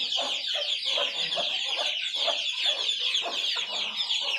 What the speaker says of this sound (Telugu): అక్కడ కోడి ఒకటి గుడ్లు పెడుతుంది